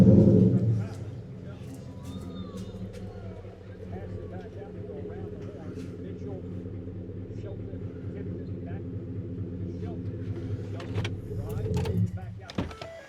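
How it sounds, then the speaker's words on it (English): A 2013 Ford F-150 pickup on a 3-inch lift with 35-inch tires and a Roush catback exhaust idles with a deep, steady rumble, moderately loud and close, with voices talking over it. "It's just a Roush catback. It sounds so good."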